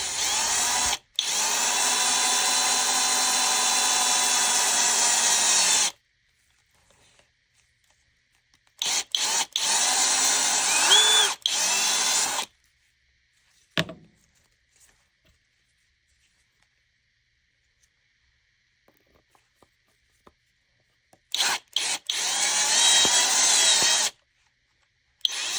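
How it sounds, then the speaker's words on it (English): Power drill fitted with a step bit boring through a marked hole in a small 1/64 scale tire part, running in three loud bursts of several seconds each, separated by silence and a few faint clicks. "So we add our step bit to the drill, and we use the hole we marked earlier. We drill through, and just use the step bit."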